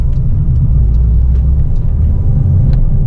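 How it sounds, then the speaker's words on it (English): A 2020 Porsche 992 911 on the move, its engine a loud, steady low rumble under road noise from inside the cabin, holding an even level without sharp revving. "finally I get a chance to drive the 2020 992 911"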